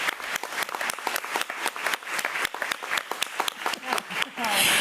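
Audience applause fills a school board meeting room, a dense spread of clapping hands that holds steady for several seconds with some cheering, then swells a little louder at the end.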